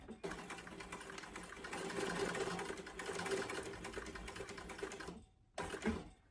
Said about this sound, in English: I'm just gonna go ahead and top stitch down the long edges.